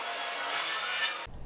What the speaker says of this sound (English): And then trim them to final width using the table saw.